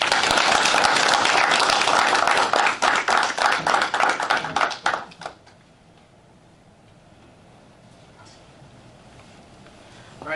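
Audience applause at a Lockport Township school board meeting, a loud burst of clapping from many hands that tapers off after about five seconds into quiet room tone.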